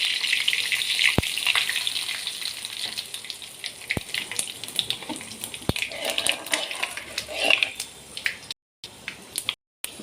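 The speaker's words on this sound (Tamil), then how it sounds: "கருவேப்பிலை பெருங்காய பொடி போடுறேன்" Curry leaves and asafoetida powder frying in hot oil for a traditional urad dal usili kozhukattai, a steady crackling sizzle throughout with a few sharp pops, close and moderately loud, ending in brief dropouts.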